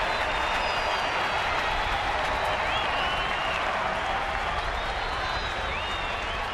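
A baseball stadium crowd at a San Francisco game applauds steadily, a dense wash of clapping and cheering that holds at an even level throughout, with faint whistles rising above it.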